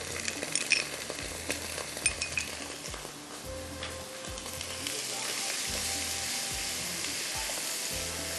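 Tomatoes with salt, turmeric, ginger-garlic and red chilli powder frying in a pan, a continuous close sizzle with spoon clinks and stirring scrapes early on, the hiss growing fuller and steadier toward the end.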